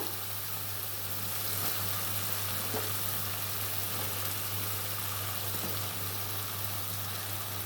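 Boiled green jackfruit sizzling in a hot pan, an even, steady frying hiss like light rain, close and moderately quiet over a faint low hum, with no voices.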